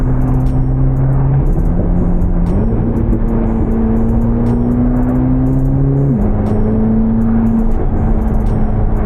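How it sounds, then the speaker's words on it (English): Turbocharged 1000 hp Corvette ZR1 accelerating hard through several gears, its muffled exhaust drone stepping up in pitch with each shift, with turbo whoosh and road rumble beneath it, loud and continuous from inside the car. "That turbo sounds crazy. This car is still very muffled because of the turbos"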